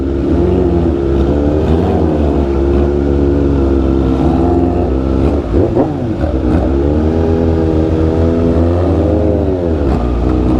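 A 600cc sports bike, a Yamaha R6 or Kawasaki ZX6R, idles and blips its inline-four engine in traffic, holding a steady loud drone with rising and falling revs and a sharper surge midway.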